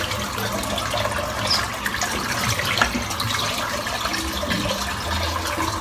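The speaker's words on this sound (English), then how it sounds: "Right, let's wet the face." Tap water runs steadily into a basin while a face is wetted before shaving, a continuous close splashing wash with no talk.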